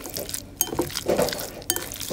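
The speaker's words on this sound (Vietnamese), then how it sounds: "Mình sẽ trộn lên cho nó thấm gia vị nha mọi người." Wagyu beef being stirred in a bowl with pepper, minced lemongrass, minced garlic and minced shallot, heard as close, wet squelching mixed with light clinks of the utensil against the bowl in uneven bursts.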